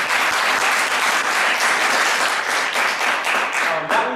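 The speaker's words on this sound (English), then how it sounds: "So let's give another round of applause" Steady audience applause fills a plenary hall at a national student activist conference on education rights, dense and sustained for the whole stretch with no break.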